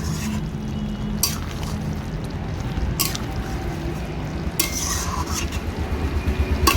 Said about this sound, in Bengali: একটু ভালো করে আমি নেড়ে চেড়ে নেব যাতে তলায় লেগে না যায়